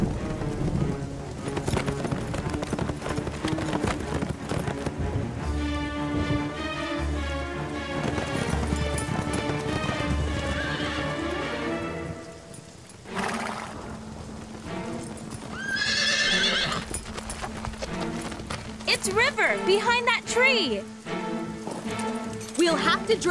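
Horses' hooves clip-clop in a steady, brisk rhythm in an animated horse-ranch show, with a whinny breaking through near the end and a brief lull midway.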